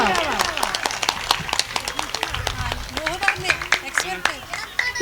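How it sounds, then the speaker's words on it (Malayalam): An audience gives a round of clapping, a steady patter of many hands close by, with lively voices talking and calling over it throughout. "നല്ലൊരു കയ്യടിയാവാം."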